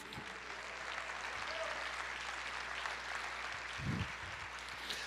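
Applause from a congregation during a Portuguese-language church service, a steady wash of clapping hands heard from a distance and lasting throughout, with a low hum underneath.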